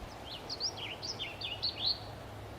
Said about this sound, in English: How can you not feel better hearing the birds?